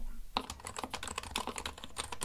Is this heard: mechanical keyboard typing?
yes